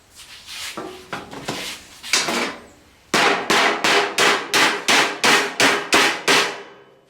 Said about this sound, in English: get a hammer and whack that.